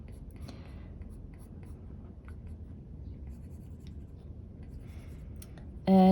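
A stylus sketches on a tablet screen in Procreate, making faint scratchy taps and short strokes over a low background hum, ending with a brief louder tonal blip.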